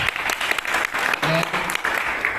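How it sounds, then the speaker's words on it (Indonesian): Brief burst of applause for dancers at a church youth gathering, a crowd clapping loudly and densely for a couple of seconds with voices audible beneath it. "Tepuk tangan buat dancer dong."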